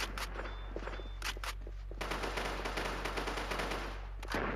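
Rapid bursts of AUG rifle fire in a first-person shooter video game, sharp automatic volleys separated by brief pauses, then a long sustained stream of shots that stops abruptly near the end.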